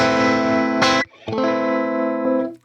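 A distorted electric guitar with the reverb pedal switched off holds a chord, briefly cuts out, then rings again; the sound is dry and stops abruptly without a lingering tail.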